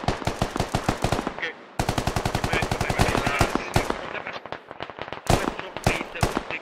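Rapid automatic gunfire in the military shooter game Squad, with bursts of closely spaced shots that stop briefly and then resume, loud and sustained, with faint voices underneath.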